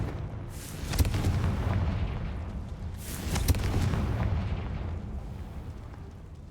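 Two heavy blasts from the Confringo fire curse in Hogwarts Legacy, each a sharp crack followed by a long rumbling decay, about two seconds apart.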